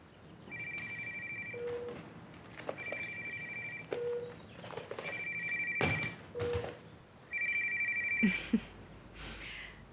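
An electronic telephone ring trills in four repeated bursts, each followed by a short lower beep, with faint background rustle and a brief knock near the end.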